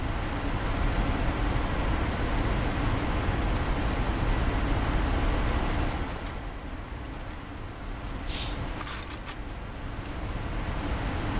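Jet aircraft engine in the game Enlisted, a steady broadband roar that drops slightly in level partway through and then builds again, with faint clicks over it and no talking.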